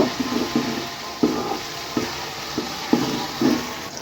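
Ginger-garlic paste frying in soybean oil for Old Dhaka-style tehari, a soft steady sizzle broken by regular scraping strokes of a spoon stirring in the pot, close and alone.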